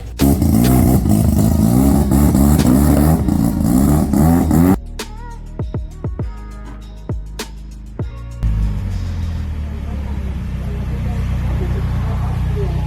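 Toyota Celica TA22 classic race car at a hillclimb at KKC circuit in Thailand, its engine revving loud and close, then dropping to sharp intermittent blips and a steadier rumbling idle.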